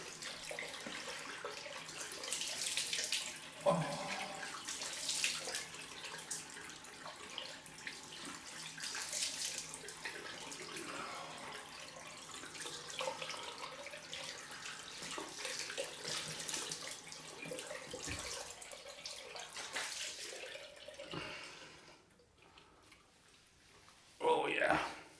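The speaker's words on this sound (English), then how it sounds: "Cold rinse time." Running tap water pours steadily into a sink for a cold face rinse after a straight-razor shave, a soft continuous rush with a few splashes and a louder burst at the end.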